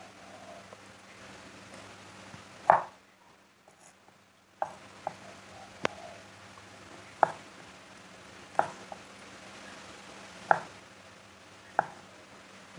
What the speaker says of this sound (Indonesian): Ini saya mau potong jadi 2 bagian kayak gini ya teman-teman.